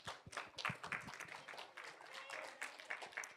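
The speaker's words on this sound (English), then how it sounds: "Let's give them a round of applause." A church audience gives a round of applause for children, a short burst of dense clapping at moderate volume with scattered claps fading in and out across a few seconds.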